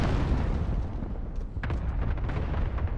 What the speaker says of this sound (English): Allied cluster strike inbound. Danger close.